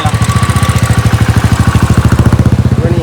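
A motorcycle engine running close by with a fast, steady throbbing putter that holds an even rhythm throughout, loud and unbroken.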